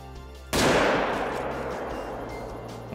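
A single loud rifle shot in the hunting game Call of the Wild cracks sharply, then trails off in a long echoing rumble over open country.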